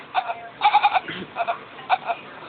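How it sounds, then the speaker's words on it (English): A cat lets out a few goat-like bleats in short, separated bursts, close by, with a brief low sound between calls. "That cat speaks goat."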